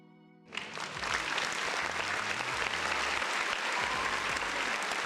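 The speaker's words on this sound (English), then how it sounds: "round of applause for the folks in the chat" Sudden burst of applause from a crowd, steady, dense clapping that continues evenly after starting abruptly.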